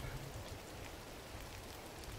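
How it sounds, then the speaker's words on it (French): Steady rain falls in the video game GRIS, a faint, even hiss of drops spread across the whole moment with no other sounds standing out. "Oh, il pleut"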